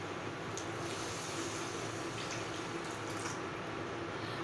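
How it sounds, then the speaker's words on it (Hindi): Water, 400 ml, is poured into a wok holding 300 grams of sugar to start a syrup for mango squash, a steady close rushing pour with no talk. "और डाल देंगे 400 ml पानी"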